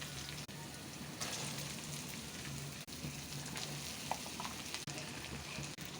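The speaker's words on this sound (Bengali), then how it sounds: "আলু ভাজা করছি বন্ধুরা" Potatoes fry in a pan with a steady, quiet sizzle and crackle throughout, broken by a few faint clicks and stirring sounds and no voices.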